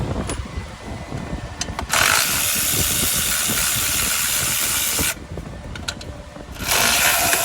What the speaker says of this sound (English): for the tighter spots, we're gonna use this is a ratchet